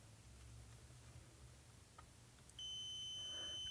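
A multimeter on its continuity setting, probing a Zener diode that has failed short circuit, lets out one sudden, steady high beep partway through. It sounds after a quiet stretch and holds until the end.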